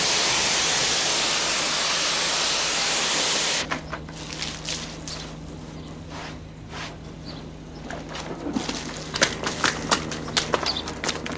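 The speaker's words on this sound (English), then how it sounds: "Have you ever seen a cow being steam cleaned before?" Steam cleaner hissing in a loud, steady broadband rush while a cow is washed at an agricultural show, cutting off abruptly after a few seconds and leaving faint barn clatter and knocks.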